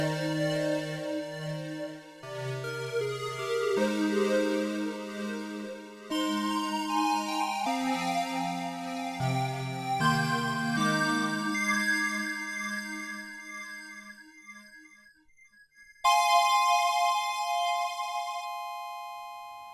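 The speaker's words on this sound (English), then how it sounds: "we're just mucking around with the VCA and that sort of tremolo effect" UDO Super 6 analog-hybrid synthesiser played with the filter wide open and the VCA modulated by an LFO for a tremolo effect: a sequence of bright, bell-like held notes and chords that shift every couple of seconds, pulsing in level, with no talking.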